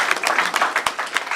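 An audience claps for a speaker in a short, dense burst of applause, close and fairly loud, with no talking over it.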